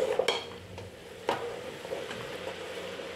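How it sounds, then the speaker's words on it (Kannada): Cut potato and brinjal are stirred through oil in a cooking pot, giving sharp utensil scrapes and clinks over a soft, low sizzle, quiet and close, with no talking. "ತರಕಾರಿ ಸ್ವಲ್ಪ ಎಣ್ಣೆನಲ್ಲಿ ಫ್ರೈ ಆಗಬೇಕು"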